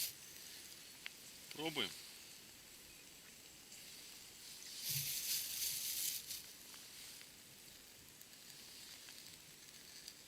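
Patties laid into heated oil on a camping stove burning eco-fire fuel: a faint background hiss, a brief spoken word, then a burst of sizzling for about a second before it settles back to a quiet fry.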